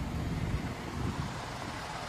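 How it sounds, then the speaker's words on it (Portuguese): Wind blows steadily at night, a dense, even rushing roar buffeting the microphone with no breaks. "Olha o vento aqui."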